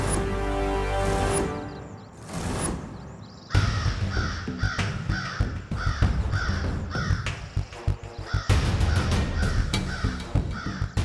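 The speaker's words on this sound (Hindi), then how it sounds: "त्रिनेत्री काक पक्षी।" A crow caws loudly and close, giving repeated harsh calls in short bursts across the stretch, with background sound shifting between sections.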